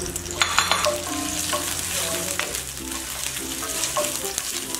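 Cashews and ginger garlic paste fry in a pan on high heat for dragon chicken, with a steady sizzle and repeated scraping and clinking as a spoon stirs them, close and continuous with no talk.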